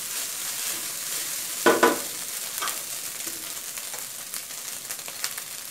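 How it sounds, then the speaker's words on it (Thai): Rice dry-roasting in a pan for shrimp fried rice, a soft steady sizzle and scrape with one louder burst of stirring near the start, close and without talk. "จะคั่วข้าวให้แห้งๆนะคะ"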